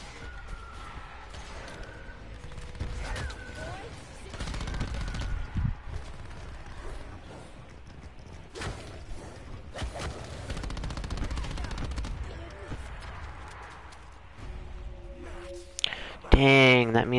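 Gunfire crackles in Modern Warfare Remastered, with bursts of automatic shots and scattered single cracks mixed among in-game noise and a loud mechanical burst near the end, while a player talks over much of it.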